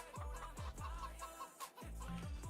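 Chickens in Farming Simulator 22 cluck repeatedly in short, low, rhythmic bursts, close and fairly quiet, with a brief pause midway.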